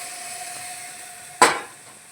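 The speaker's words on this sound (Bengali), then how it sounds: "এবার জল দিয়ে দেবো।" Water is poured onto fried fish cooked in spices in a hot pan: after a quiet hum, a sudden loud hissing burst of steam erupts once and fades quickly.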